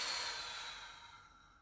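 A single slow exhale during a breathing exercise, a soft airy breath that fades away gradually over under two seconds, close and quiet with no talking.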